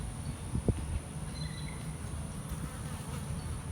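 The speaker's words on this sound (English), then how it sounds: "2 swarms have moved in. One have moved into this box." Bees from a small swarm that has settled into a hive box drone in a steady buzz close by. One or two louder passes come early, and faint outdoor ambience sits beneath the buzzing.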